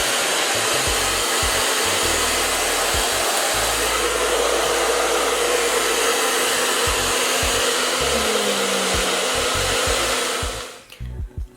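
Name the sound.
hood hair dryer running on medium heat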